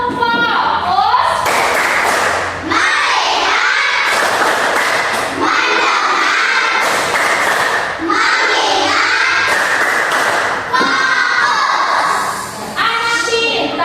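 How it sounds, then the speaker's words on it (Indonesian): A classroom of children doing a rhythmic focus clap, bursts of loud patterned clapping in repeated phrases mixed with children chanting together. "Ya, tepuk fokus."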